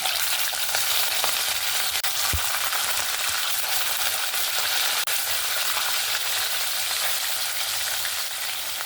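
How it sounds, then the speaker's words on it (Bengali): Katla fish pieces, salted, frying in hot oil in a kadai give a steady, loud, dense sizzle throughout, with a couple of brief low knocks near the start and no speech. "এবার আমি একটা একটা করে মাছ ভেজে নেব।"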